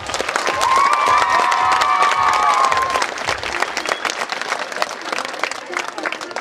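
An audience at a sports gala in Lubawa claps in sustained, moderately loud applause that gradually thins into scattered claps, with some whistles and voices mixed in.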